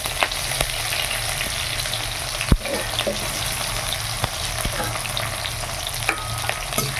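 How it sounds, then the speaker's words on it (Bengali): Chopped onion fries with cumin seeds in hot oil, a steady close sizzle punctuated by occasional sharp spatula taps and scrapes against the pan. "এবার পেঁয়াজটাকে হালকা করে একটুখানি ভেজে নেব,"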